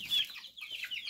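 Chicks and chickens cluck and cheep up close at night around their coop door, a busy, continuous high-pitched chatter with no pauses and no talking.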